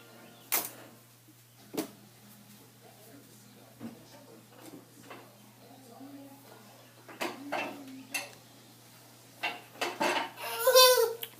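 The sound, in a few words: cutlery being loaded into a dishwasher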